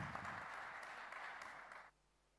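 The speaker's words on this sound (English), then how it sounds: "please join me in a round of applause for our excellent panelists" An audience at a cybersecurity forum applauds its panelists with a sustained, moderately distant round of clapping that stops abruptly near the end and leaves quiet room tone.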